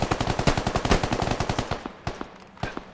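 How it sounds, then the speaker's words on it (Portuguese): Rapid automatic gunfire punches through a wooden wall in the Squad video game, a loud close burst of many evenly spaced shots that slows into a few spaced rounds. "Atira na madeira que vara, guys."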